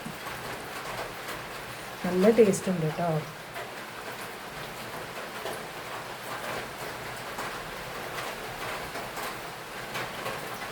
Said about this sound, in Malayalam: നല്ല മഴയും വരുന്നുണ്ട്